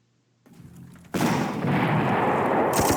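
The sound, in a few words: artillery fire in video game Panzer Corps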